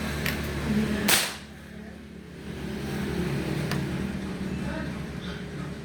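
A single sharp crack of a JR Mangio Inova air rifle shot, fired through a scope, rings out early, followed by quieter clicks over steady background rumble and faint voices.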